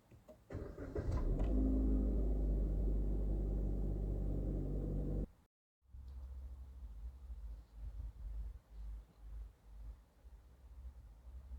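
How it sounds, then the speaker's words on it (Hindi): A 2021 Maruti S-Cross Zeta BS6 engine roars loudly for several seconds, cuts out briefly, then settles into a lower, steady idle rumble with small fluctuations, heard close up. "अब सुनते हैं गाड़ी की साउंड, इंजन साउंड।"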